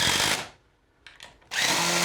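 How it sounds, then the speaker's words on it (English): A power drill whirs loudly driving screws into a table, stops for a moment of near silence with a couple of brief bursts, then runs again, close by. "you can take your drill or your Phillips head screwdriver and you're going to tighten it in"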